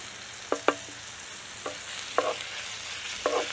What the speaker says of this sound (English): Tomato paste. Fry short.